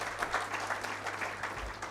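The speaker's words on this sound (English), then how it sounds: "I would like to give a big round of applause to all of them" Moderate applause from an audience at a valedictory function for a record-setting mega health checkup, an even patter of many hands clapping through the whole brief stretch.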